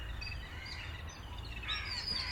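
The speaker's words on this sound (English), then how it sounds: "like listening to that crow making a noise" A crow caws faintly in the distance outdoors in Madras during a public talk, its calls thin and brief over a steady low background hum.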